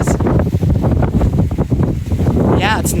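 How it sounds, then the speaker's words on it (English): Strong outdoor wind buffets the microphone in a steady loud roar, with talking mixed into the rumble. "Nice and windy, breezy."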